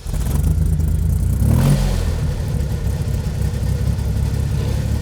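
A 56-year-old Jeep CJ5 engine cranks and catches in extreme cold of about -31C, a brief rising starter whine giving way to a loud, steady rough idle close by.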